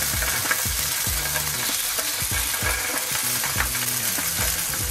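Skin-side fish fillet pieces fry slowly on low heat in a pan, a dense, even, close sizzle with fine crackling and occasional soft spatula taps, steady throughout with no voices.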